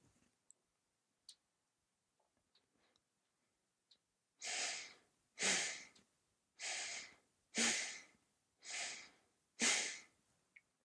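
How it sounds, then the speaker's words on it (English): Belly breathing shown as a demonstration: a few faint clicks, then six strong, close breaths in a regular rhythm, each a breathy whoosh about a second long, with no speech. "That's belly breathing. My chest wasn't moving."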